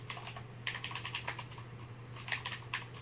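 A CM Storm Quickfire TK mechanical keyboard with Cherry MX Green switches is typed on close by, giving crisp clicky keystrokes in uneven bursts over a steady low hum.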